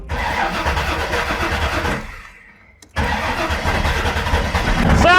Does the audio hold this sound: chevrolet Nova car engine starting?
yes